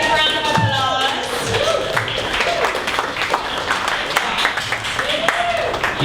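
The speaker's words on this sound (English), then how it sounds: "Big round of applause." A conference audience at a Dallas startup morning event bursts into steady applause to welcome a speaker, dense clapping sustained throughout with a brief voice near the start.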